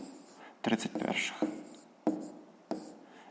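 A pen writing math by hand on paper, several separate bursts of scratching strokes separated by short pauses, close and clear, with quiet breathy sounds between them.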